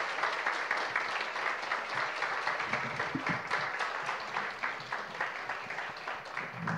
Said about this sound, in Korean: 우리 수고해주신 리더분들께 감사의 박수 부탁드리겠습니다